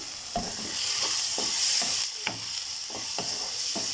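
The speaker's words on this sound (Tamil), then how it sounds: "இப்போ தக்காளி வந்து லைட்டாக வதங்கட்டும்" Tomatoes with a little salt sautéing in a pan for Tamil egg kothu parotta, a steady sizzle broken by repeated scraping stirs of a spatula, close and moderately loud, with no talking.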